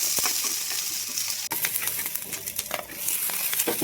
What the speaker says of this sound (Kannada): ಈರುಳ್ಳಿ ಕಟ್ ಮಾಡಿ ಇಟ್ಕೊಂಡಿರ್ತೀವಲ್ಲ ಅದನ್ನು ಸೇರಿಸ್ಬಿಟ್ಟು ನಾವು ಎಣ್ಣೆಗೆ ಫ್ರೈ ಮಾಡಬೇಕು